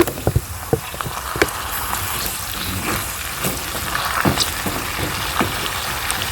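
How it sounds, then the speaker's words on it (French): Cucumber and carrot pieces sizzle and simmer in a pan while a Gambian Benachin is cooked, with a steady crackling hiss and scattered pops and taps close by. "Pendant que les concombres mijotent avec la carotte"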